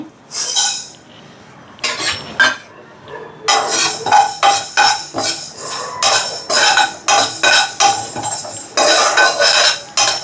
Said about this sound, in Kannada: ಒಂದು ಮೆಥಡಲ್ಲಿ ಹುರ್ಕೋಬೇಕು ಮೆಂತ್ಯ ಹಾಕೋತಾ ಇದ್ದೀನಿ